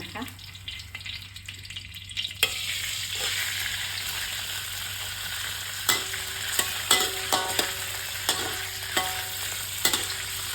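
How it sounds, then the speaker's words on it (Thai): Tofu fries in a pan for pad thai, a steady close sizzle broken by scattered clinks and stirring taps. No voices are heard over the frying. "ทอดให้เหลืองๆให้สุก"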